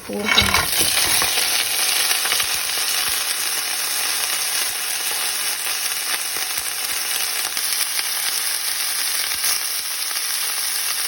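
Blue swimmer crab being stir-fried with spring onions in a pan, cooked in Norway; a loud, continuous hiss of sizzling runs the whole time, with faint scraping and clinks from stirring near the start.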